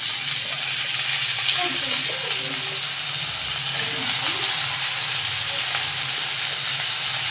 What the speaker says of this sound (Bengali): ডাঁটা আলুগুলোকে তেলের সঙ্গে ভালো করে ভেজে নেব